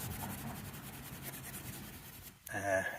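Rubbing to clear old tape residue from stainless trim on a 1962 Mercury Comet: faint, close scrubbing strokes repeat steadily, then stop with a brief scrape or squeak near the end.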